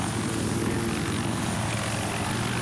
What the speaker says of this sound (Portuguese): deixa eu tentar aterrissar aqui o helicóptero, fazer uma peripécia.